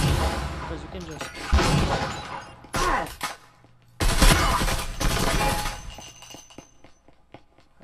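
Shotgun fire in the VR shooter Breachers VR: loud, close blasts with harsh, shattering impacts, set in dense, chaotic game noise that drops away between volleys.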